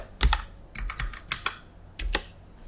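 Keys clack on a computer keyboard as a folder name is typed, a close, quiet run of short taps in small uneven clusters with brief pauses, and no speech.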